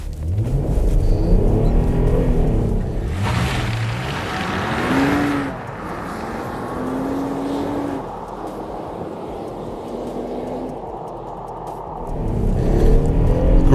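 A 2022 Infiniti QX60 with all-wheel drive accelerates hard from a standstill on a wintry road, its engine rising in pitch through several gear changes, loud and steady from inside the cabin.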